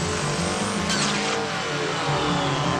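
A loud Ford Transit diesel van engine revs continuously, running away into high revs uncontrollably, its pitch rising and falling under a steady roar, close by and with no speech.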